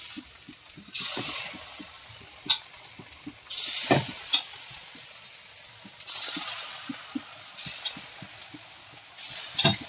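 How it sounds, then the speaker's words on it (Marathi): Batter-coated bitter gourd fritters drop one by one into hot oil and fry, a soft steady sizzle with bursts of louder bubbling and occasional scraping stirs, close and moderately quiet. "हे कारली आपल्याला अशी पिठात व्यवस्थित पीठ लावून एक एक याच्यात सोडून द्यायचे तेलामध्ये."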